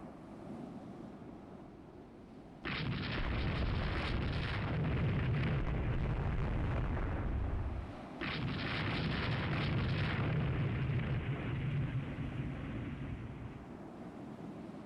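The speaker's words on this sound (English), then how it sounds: "something is firing at a coastal battery" Naval guns firing in a daylight sea battle in Rule the Waves 3, with a coastal battery under fire: two long, loud roaring blasts of broadband rumble, each sustained for several seconds over a soft sea-like wash, with no voices.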